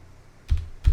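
Two quick, close keystrokes on a computer keyboard as a command is entered, separated by a short pause and heard alone over faint room hiss.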